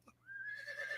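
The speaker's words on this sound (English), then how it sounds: "There's that horse again." A single horse gives a faint, high, drawn-out whinny that rises and holds for about a second, heard alone at a distance against a quiet background.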